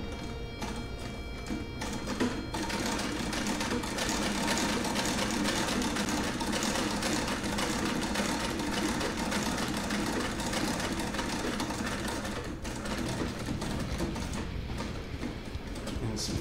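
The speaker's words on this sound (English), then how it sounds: "Yeah, I love how the treadle sounds too." A 1910 treadle sewing machine stitches denim jeans, giving a continuous loud rhythmic clatter of the needle mechanism and treadle throughout, with a brief dip near the end.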